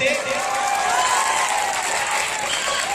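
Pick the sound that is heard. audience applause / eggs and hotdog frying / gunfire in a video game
audience applause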